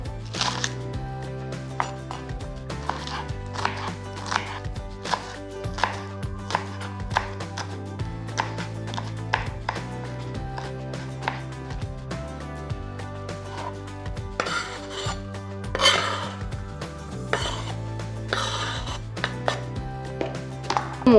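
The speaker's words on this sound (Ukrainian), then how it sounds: "нарізаємо зелененьку цибульку" Green onions are chopped with a knife on a board for a vegetable salad, in quick steady taps, close and clear over soft background music.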